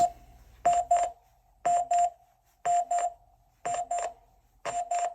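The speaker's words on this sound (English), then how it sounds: "as it gets closer to being set, the beeps increase" A home security system's arming countdown sounds paired electronic beeps about once a second, each double pulse loud and clear against a quiet room, steady and mechanical in rhythm.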